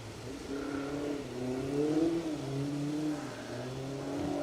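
A rally car blasts past at speed on the Sweetlamb hillside stage of the R.A.C Rally, its engine revving and shifting with rising and falling pitch, fairly distant and steady without talk.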